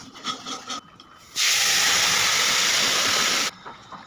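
Ground cumin, coriander and dried chilli hit hot oil with a sudden loud sizzle that holds steady for about two seconds, then cuts off, leaving quieter kitchen clatter before and after.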